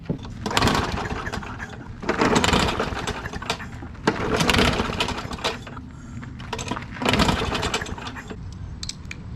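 A small engine freshly filled with new oil starts and runs loud and close, its rough broadband roar surging in several repeated bursts.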